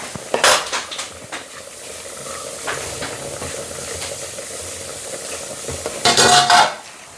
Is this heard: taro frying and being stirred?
yes